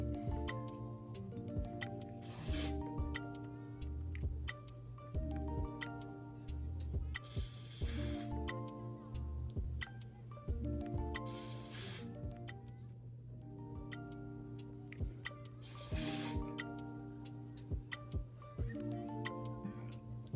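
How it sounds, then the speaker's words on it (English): Several short hissing sprays from a spray bottle of hair product on a wig burst out at intervals of a few seconds over steady background music, fairly close. "So I'm gonna just spray it on my finger and then just melt it in."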